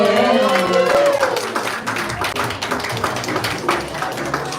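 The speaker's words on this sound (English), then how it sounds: "Let's all clap for him." Crowd clapping for the president of Miss and Mister Supranational at a live pageant, a brisk scattered patter of hands that thins slightly toward the end, with voices and music underneath.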